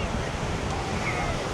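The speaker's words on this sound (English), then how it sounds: "It's really blowing the gale" Strong gale blowing along the Blackpool seafront promenade, a steady roaring rush of wind buffeting the microphone and mixing with surf-like noise, constant and loud throughout.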